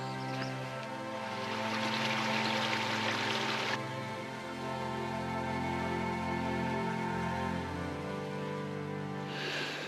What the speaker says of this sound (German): Der Bach plätschert hier in den Regen